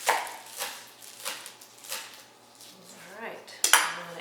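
A knife chops green onions on a cutting board, giving a series of sharp, irregular taps close by, with a louder clack near the end.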